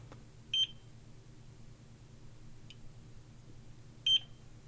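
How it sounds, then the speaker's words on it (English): A continuity tester probe with a reed switch gives two short, bright electronic chirps a few seconds apart over a quiet low hum, with no one speaking. "Depending on the polarity setting, the probe will either chirp when the contact is made or when it breaks."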